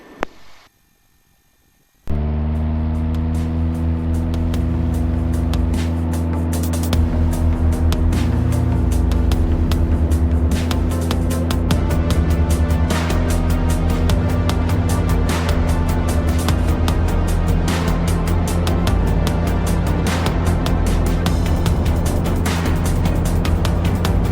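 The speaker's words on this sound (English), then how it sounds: "Cordell area traffic 975 Sierra is departing runway 17." A Citabria tailwheel airplane's engine roars up to full power for takeoff on runway 17 after a brief quiet moment, then holds a loud, steady, close drone with strong low harmonics.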